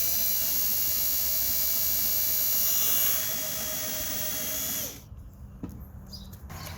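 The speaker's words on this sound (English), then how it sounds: "Be very careful to not go too far with this drill bit." A power drill runs steadily as its bit bores a hole for zip ties in an automatic dog and cat water bowl, a loud constant whine that cuts off near the end, leaving quiet rustling.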